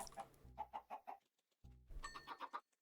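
Chicken clucking in Minecraft, two short bursts of rhythmic clucks separated by a brief pause, clear and close with no talking.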